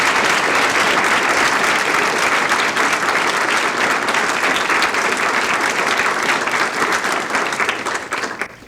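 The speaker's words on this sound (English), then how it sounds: "let's give a big round of applause for all of our recipients tonight" Sustained, vigorous applause from an audience at a 1989 civic service awards ceremony honoring recipients, a dense, loud wall of clapping that holds steady before tapering off at the end.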